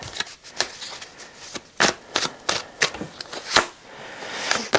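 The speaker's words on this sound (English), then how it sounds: "Let's have 3 cards." Tarot cards are shuffled and drawn by hand, a series of crisp, close riffling and snapping bursts at an uneven rhythm, with no one speaking.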